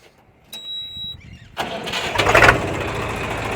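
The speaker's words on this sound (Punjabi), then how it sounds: "ਸਟਾਰਟ ਕਰਕੇ ਆਵਾਜ਼ ਵੀ ਦਿਖਾ ਦਿੰਨੇ ਆਪਾਂ" A Massey Ferguson-style 855 tractor engine cranks and catches after a short electronic beep, then roars up loudly and settles into a steady, rough diesel run close by.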